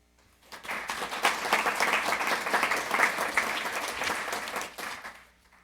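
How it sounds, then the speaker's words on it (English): Attendees at a community town hall about access to the Salado Creek Greenway give volunteers a round of applause. Many hands clap briskly for about five seconds, then the applause fades out near the end. "a quick round of applause for those who volunteered their time for that project here"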